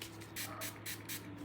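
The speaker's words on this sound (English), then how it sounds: "Puzzle Me setting spray." Puzzle Me makeup setting spray is misted from a bottle in four quick, close hissing bursts, evenly spaced with short quiet gaps between them.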